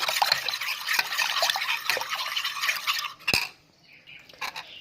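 A spoon scrapes and clinks against a pot while stirring a flour and butter mixture for a potato gratin, with quick repeated metallic taps and soft wet smearing that trail off into quieter scrapes.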